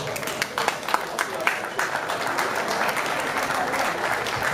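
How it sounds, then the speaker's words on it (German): A crowd at a professional boxing event in Essen, Germany claps steadily and densely for a few seconds, a continuous wash of applause with a voice faintly underneath. "Applaus nochmal für die beiden Fighter"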